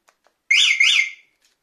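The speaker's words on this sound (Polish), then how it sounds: "Oczywiście jest też alarm" A short electronic alarm on a Samebike 20LVXD30 e-bike chirps twice in quick rising-falling warbles, loud and close, then cuts off into silence.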